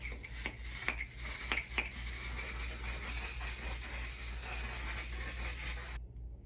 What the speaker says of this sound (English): I'm gonna prep my skin with the One Size Until Dawn mattifying waterproof setting spray